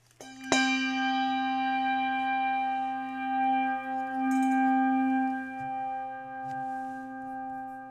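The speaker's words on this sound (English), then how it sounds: "I'll ring the bell. We'll start our service." A single church bell is struck once at the start of a Thanksgiving Day worship service, its clear tone ringing on and slowly decaying over several seconds with a faint hum beneath.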